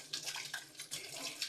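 Tap water runs steadily while dishes are washed up, a close, continuous splashing hiss with small changes as the flow hits the sink.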